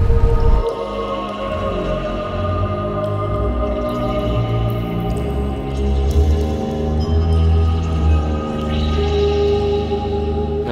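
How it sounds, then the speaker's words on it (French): Water laps and drips inside a Scottish castle, a steady wash of splashing and small drips with a low rumble underneath, continuous and fairly close throughout. "J'entends le bruit blanc de l'eau,"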